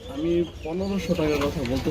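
Pigeons coo in soft, low, rolling calls, repeating steadily and close by, with a faint murmur of other sounds underneath.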